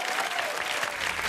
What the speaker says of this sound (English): Applaud out of fear.